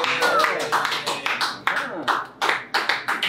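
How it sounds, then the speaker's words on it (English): A group of people claps for a volunteer at a pisco tasting in Peru, a quick, uneven patter of hands close by, with talking mixed in over it. "Claps for the volunteer."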